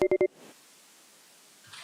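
A phone line dials three quick, loud touch-tone beeps as a caller connects to a San Diego County Board of Supervisors public meeting. A faint line hiss follows, then a soft click.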